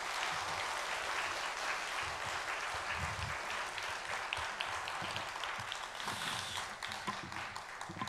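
A church congregation at an evening revival service claps in sustained, dense applause to welcome the preacher, loud and steady throughout.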